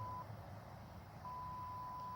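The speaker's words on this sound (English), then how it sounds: "Oh, I hear beeps." A camera's focus-stacking sequence gives off a thin, steady electronic beep, a short one at the start and a longer sustained tone near the end, over a faint background hum.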